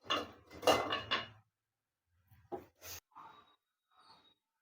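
A lid is lifted off a cooking pot of stuffed brinjal curry (gutti vankaya) with a brief metallic clatter, followed by a few softer clinks and knocks of cookware. No speech.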